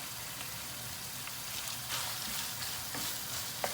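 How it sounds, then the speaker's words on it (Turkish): Steady crackling sizzle of onions frying in a hot pan, a continuous hiss with small pops, close and moderately loud, no voices. "soğanlarımı boşaltıp biraz da bu şekilde kavurma işlemine devam edeceğim"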